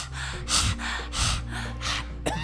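Kundalini yoga breath of fire done with the tongue out, a series of forceful, rhythmic panting breaths, about one every third of a second in sharp huffing pulses, close and clear.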